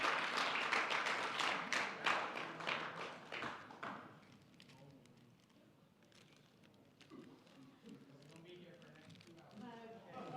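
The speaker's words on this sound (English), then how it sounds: "So give her a round of applause." Audience applause for the high school Student of the Year at a middle and high school awards ceremony, loud and brisk for a few seconds before fading into scattered claps and quiet room murmur.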